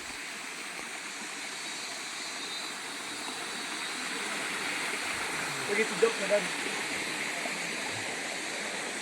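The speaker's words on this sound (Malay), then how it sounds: "Ini air terjun Sebeloi." Steady broadband rush of the Sebeloi waterfall in Ulu Sebauh, continuous and fairly close, with people talking briefly over the flowing water.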